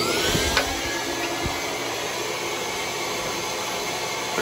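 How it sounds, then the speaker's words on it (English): A vacuum cleaner runs steadily with a loud broadband roar while clearing burnt paper debris from a carbonized Weil McLain boiler during repair, with a few faint knocks and no talking. "You get the vacuum."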